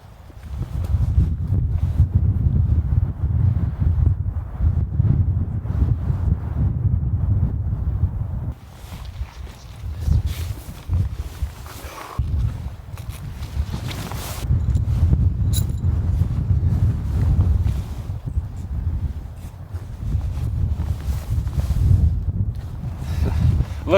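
Strong storm wind buffets a pitched, guyed camping tent in heavy rain, a loud, continuous low roar of gusts close to the microphone that eases briefly midway before surging again.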